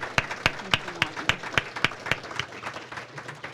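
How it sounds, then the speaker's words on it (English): A breakfast club audience gives a round of applause, opening with a few loud, evenly spaced nearby claps that give way to softer scattered clapping from the room. "So we should give him a round of applause"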